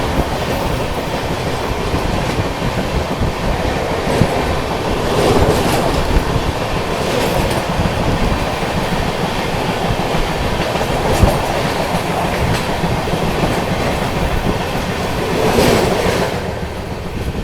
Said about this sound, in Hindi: आज पीछे से एक और ट्रेन आ रही है। ये देखिए WFP सेबल टाटा नगर लोकल।